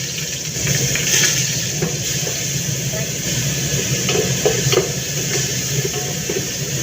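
Garlic frying in hot oil for a chicken and vegetable dish, a steady broadband sizzle and hiss that runs continuously throughout, with faint clinks and stirring over it.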